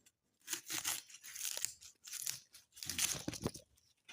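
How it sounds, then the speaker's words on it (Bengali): Cauliflower being cut in a home kitchen, a series of crisp crunching and tearing bursts as the knife breaks through the florets, fairly close and irregular, with short pauses between cuts. "এই যে এই ফুলকপি কাটছি"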